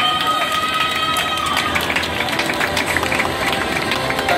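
Audience crowd cheering and applauding for a swimsuit-round contestant at a Miss Czech Republic 2021 beauty pageant semifinal in Aquapalace Praha Čestlice, a dense, steady roar of clapping and shouts throughout.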